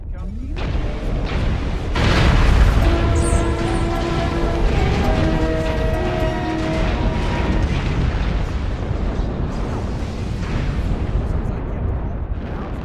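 Artillery strike explosions from the MechWarrior video game, with a Catapult-K2 mech involved: a dense, continuous rumble of booms and bursts layered with tonal game effects, loudest early and sustained throughout.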